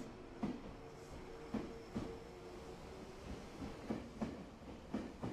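Slow train pulling out of a stone mountain station in the game SeaBed, giving periodic rail clacks and thumps spaced about a second apart over a low steady rumble, fairly faint and without voices.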